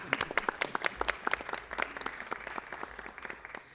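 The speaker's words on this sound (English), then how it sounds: "If we could give them all a round of applause again." An audience applauds journalists from the Beverly Press at a Los Angeles City Council meeting, a moderate, distant patter of steady clapping lasting a few seconds.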